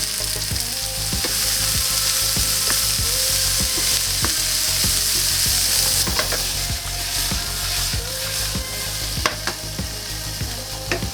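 Brussels sprouts with crushed pecans, salt, pepper and chili flakes sizzle and caramelize in a pan, a steady loud frying hiss with frequent clicks and scrapes of stirring throughout.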